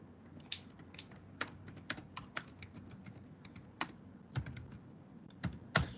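Keys on a computer keyboard click in an uneven run of soft, close taps with occasional louder strokes, quiet with no talking.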